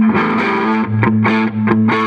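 A 1964 Gibson Byrdland's neck pickup played through a '65 Fender Deluxe Reverb with a touch of reverb rings out in loud, sustained clean-ish chords, each struck a few times with brief breaks between strums.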